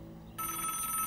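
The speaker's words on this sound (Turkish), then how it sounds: "Telefon çalıyor." A telephone bell rings indoors, its steady electronic trill cutting in abruptly partway through and continuing loud and close, with no voices.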